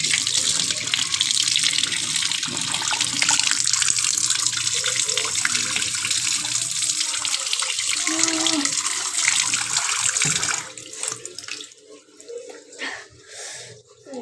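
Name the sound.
running water from tap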